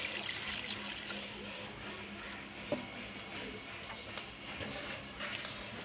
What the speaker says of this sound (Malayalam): പാലും മൂന്നാം പാലും കൂടി ഒഴിക്കുന്നു